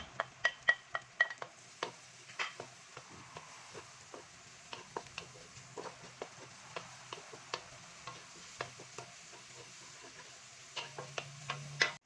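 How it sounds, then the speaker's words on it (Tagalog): Garlic and onion sauté in a pan for carbonara, heard as a soft background sizzle broken by frequent sharp ticks and clicks of a utensil stirring against the pan, quiet and close. "At yung susunod naman po ay yung igigisa naman po natin dyan ng ating bawang."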